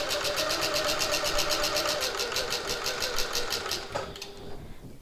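A home sewing machine runs steadily at its longest stitch length through bag fabric, a fast rhythmic mechanical chatter with a motor hum that slows and stops near the end, close up with no talking.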